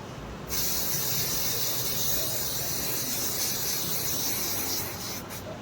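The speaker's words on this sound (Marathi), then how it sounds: "हा स्प्रे आहे, हा आपण आता मारून घेऊयात." A burst of aerosol shine spray hisses steadily for about four and a half seconds onto a finished balloon decoration, a loud, close, continuous spray that cuts off abruptly.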